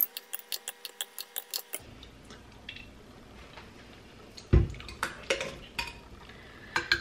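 Icy pink lemonade is scooped into a container, starting with quick, even ticking taps, then irregular scraping clinks and one sharper knock of a utensil against ice and the container, all close up.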